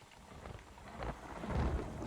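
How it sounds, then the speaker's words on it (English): Rain pours steadily in the open-world Western game Red Dead Redemption, with low thunder rumbling and swelling louder toward the end, alone without voices. "It's a wee bit rainy out here."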